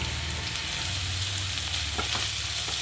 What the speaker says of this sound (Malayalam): ഇനി എല്ലാം കൂടി ഒന്ന് കൂട്ടി യോജിപ്പിച്ച് നന്നായിട്ട് ഇളക്കി സവാള കൂടി ഒന്ന് വഴറ്റിയെടുക്കുക